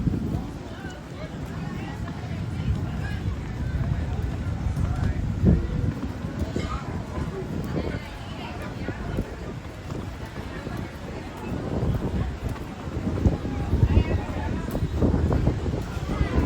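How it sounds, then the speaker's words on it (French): Steady gusty sea wind by the shore buffets the microphone outdoors, a low rumbling roar that swells and eases while a person talks over it. "proche de la mer, il y a un bon vent rafraîchissant."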